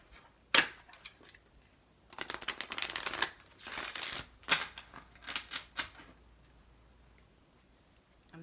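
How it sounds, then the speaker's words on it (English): Gold-edged cards being shuffled by hand in a few close, crisp riffling bursts separated by short pauses, with no talking. "And I'm only going to shuffle 3 times for you."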